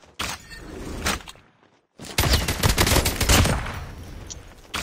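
Gunfire in Call of Duty Mobile comes as a quick volley, then a brief pause, then a longer burst of rapid, loud, sharp cracking shots.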